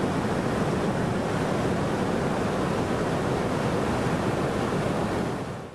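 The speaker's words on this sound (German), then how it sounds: "Der Godafoss ist vielleicht nicht der größte Wasserfall Islands" Roaring water of Godafoss waterfall in Iceland, a steady loud broadband rush that holds constant throughout, mixed with wind buffeting, tapering slightly at the very end.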